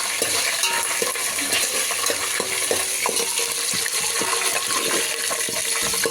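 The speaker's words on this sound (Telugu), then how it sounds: "ఇప్పుడు దీంట్లో అల్లం వెల్లుల్లి పేస్ట్ కాలుతుంది" Ginger garlic paste frying in a hot pan, a dense steady sizzle with scattered crackles and light stirring clinks throughout, close and loud with no talk.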